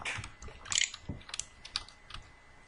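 Computer keyboard typing in Microsoft Word 2016 comes as quick irregular clicks in short bursts, close and fairly quiet with no talking.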